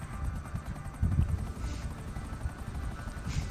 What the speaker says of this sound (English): this chopper might die before we actually get there